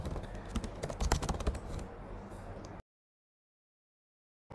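Rapid, uneven keystrokes clatter on a computer keyboard for about three seconds while a sudo command is typed, close and clear, then stop into silence.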